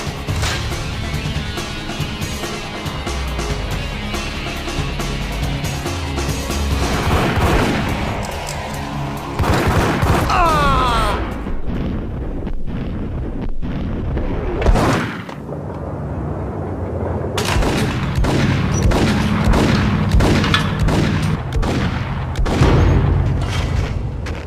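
Heavy gunfire from a shootout in the 2002 video game Max Payne, with dense booming shots and bursts of automatic fire, loud and sustained, crashing impacts and a brief lull midway before the firing resumes.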